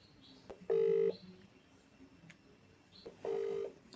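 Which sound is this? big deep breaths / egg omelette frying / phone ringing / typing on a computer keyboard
phone ringing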